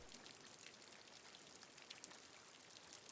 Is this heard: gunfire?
no